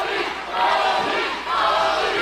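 A wrestling crowd at a cage match roaring and chanting in support of Brodie Lee, a loud, dense wall of cheering voices that surges twice and holds steady throughout.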